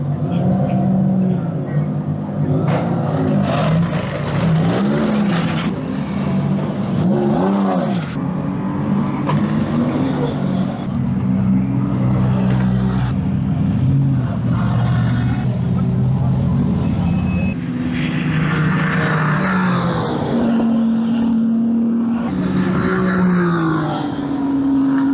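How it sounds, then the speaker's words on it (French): Race cars entering the track at the 24 Hours of Le Mans 2025, engines droning and revving as they pass one after another, with people talking nearby over the steady motor noise. "on vous fait le passage des voitures qui vont rentrer en piste."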